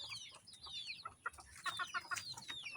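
Chickens cluck and chirp near a chicken house in the late afternoon, a quiet scatter of short clucks and higher peeps with no talking.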